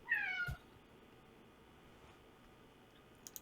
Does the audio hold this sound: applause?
no